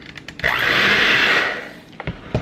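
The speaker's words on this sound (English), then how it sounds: "We're going to get that all blended up." An electric mixer blending cookie dough with brown sugar and salt runs in one steady, whirring burst of about a second, with a few light clicks and knocks before and after.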